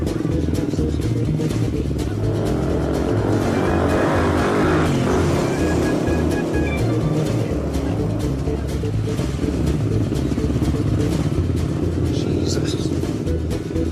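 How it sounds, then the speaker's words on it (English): Motorbike ride through streets in Brazil, its engine rumbling steadily close by with clattering road noise and a brief rising rev, while people talk over it. "He's going to pick me up on his motorbike."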